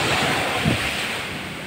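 Sea surf and gusting wind roar continuously at the shore during a typhoon, a loud, dense wash of noise with a brief swell in the middle and no voices.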